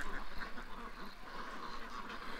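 Ducks on the water, a female with four drakes, quacking a few times at a modest distance against steady outdoor background noise.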